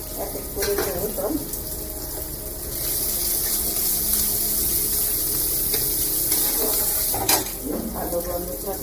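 Chopped garlic hits hot oil in a pan for pomfret fish curry, a steady loud sizzle that swells and holds, with a few clinks of a spoon or utensil against the pan.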